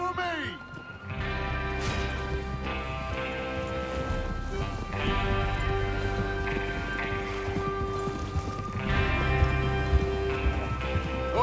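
Horses gallop in the video game Red Dead Redemption 2 with a continuous clip-clop of hooves, mixed under people talking and an ambient game soundtrack.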